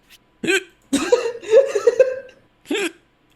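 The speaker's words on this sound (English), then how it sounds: "Oh, breathing so much made me get hiccups." A person hiccups several times after heavy breathing, sharp voiced catches spaced unevenly, some running into a short chuckling sound, close and loud against silence.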